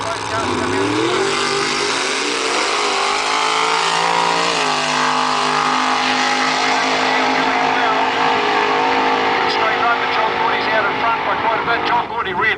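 Drag racing cars launching at Ruapuna raceway, a loud sustained engine roar with rising revs, the cars coming off the line slowly on spinning tyres, with a commentator talking over the din throughout.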